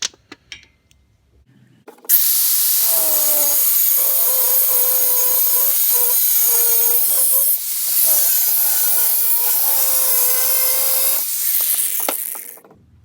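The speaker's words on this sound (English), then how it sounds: "I'm going to cut the mower blades to fit in between here" Old steel mower blades being cut with a power tool, a loud continuous grinding, rasping cut that runs steadily for about ten seconds with a brief dip midway, then stops abruptly.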